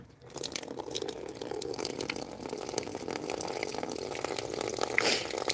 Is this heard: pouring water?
yes